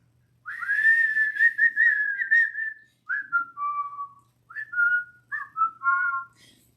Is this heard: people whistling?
yes